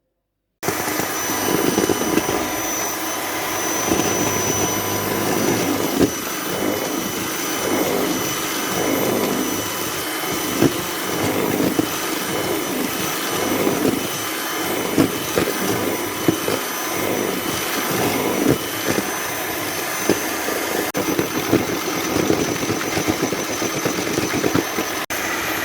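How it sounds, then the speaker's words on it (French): Icing sugar and cream whipped together with an electric mixer for a Christmas log cake, a steady loud whirring motor drone with slight rhythmic wobble throughout, no talking. "je vais maintenant mélanger le sucre glace et la crème."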